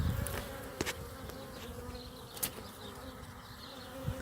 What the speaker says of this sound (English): so we found a swarm. We're gonna try to catch him.